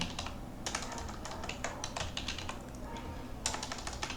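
Fast typing on a computer keyboard while entering text into retail billing software, a steady stream of light key clicks in uneven bursts, close and fairly quiet, with a short pause partway through.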